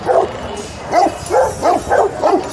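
A Great Dane at a street animal market gives a run of about six short, deep barks mixed with whining whimpers, evenly spaced and close, with faint market background and no talk.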